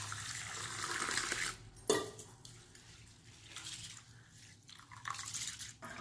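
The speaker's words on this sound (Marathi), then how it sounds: "दोन वेळेस तांदूळ आणि डाळ मी स्वच्छ धुवून घेतलेली आहे।" Rice and toor dal being rinsed in water, with swirling, sloshing water and small splashes close by, a sharp clatter near the two-second mark, then quieter trickling and rubbing.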